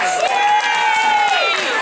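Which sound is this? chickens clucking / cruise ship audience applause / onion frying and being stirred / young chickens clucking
cruise ship audience applause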